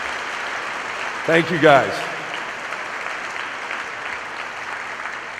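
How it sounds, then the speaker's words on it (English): Steady applause from a banquet audience for the Kansas Shrine Bowl board, a soft, even wash of clapping throughout, with someone briefly speaking over it near the start. "Let's give them another big round of applause."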